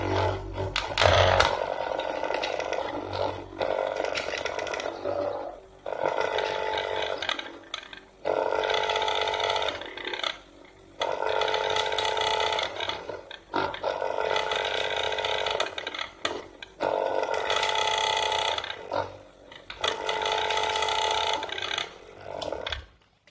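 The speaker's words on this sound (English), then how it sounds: "Now let me give a thorough mix using this mixer." A laboratory mixer buzzes in repeated bursts of a few seconds each while mixing plant extract samples in solvent, with short pauses between runs, loud and close.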